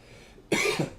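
A single close cough breaks out abruptly, two sharp bursts following a quiet moment in a podcast room.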